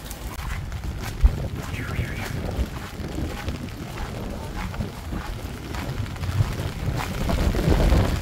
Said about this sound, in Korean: 우와, 바람 엄청 불어